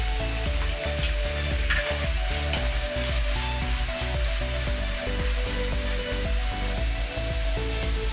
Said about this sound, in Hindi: इसको हम फ्राई करेंगे और इसमें सॉल्ट ऐड कर देते हैं अभी,